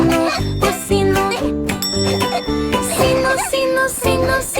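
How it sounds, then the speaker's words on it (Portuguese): A small bell jingles and tinkles within a bright children's song, ringing over dense music with a strong rhythmic beat. "Sino, sino, sino, sino ressonante."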